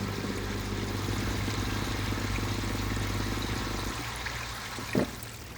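Clean water bubbles and trickles out into a garden koi pond after a pond clean-out, a steady close rushing gurgle under a low pump hum, with one brief splash near the end.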